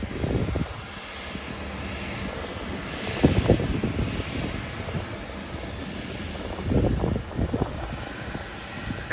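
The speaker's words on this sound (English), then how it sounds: "Normally we have only the smaller airplanes here, not the big one here, the long haul, like this Boeing 767" A long-haul Boeing 767 airliner at Ponta Delgada Airport in the Azores, arriving direct from Frankfurt. Its steady jet engine roar carries over wind, with louder swells rising and fading as it passes, moderately near.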